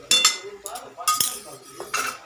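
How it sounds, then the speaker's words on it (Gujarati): A metal utensil clinks and scrapes against a pan in several short bursts, like food being tipped in and stirred, close and fairly loud. "તો આપણે એમાં પાસ્તા નાખીશું"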